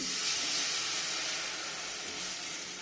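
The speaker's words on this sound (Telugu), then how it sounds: "ఇప్పుడు అదే కడాయిలో అండి ఇక్కడ నేను పాలు వేసుకుంటున్నాను" A steady broadband hiss and sizzle as milk is poured into a hot kadai, continuing evenly throughout with no voices.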